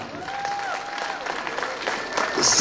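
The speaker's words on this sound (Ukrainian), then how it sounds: "Оплески переможцям." An audience applauds winners at a school assembly, with light scattered clapping that builds toward the end, under a faint tonal hum and murmur.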